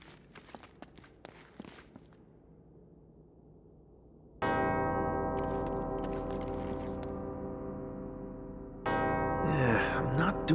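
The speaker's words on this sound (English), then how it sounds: "Two bells resound in perfect harmony." Two bells in Uncharted: Drake's Fortune ring out in sustained harmonic tones, one struck partway through and a second layered on later, loud and close after a stretch of footsteps and small clicks.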